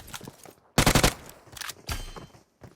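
Bursts of automatic gunfire in the PUBG Mobile battle game, a loud sustained volley followed by shorter rattling bursts, with brief quiet gaps between them.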